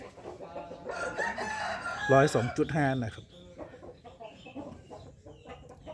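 A Liam Ching fighting rooster crows loudly nearby with some clucking, while someone speaks briefly over it.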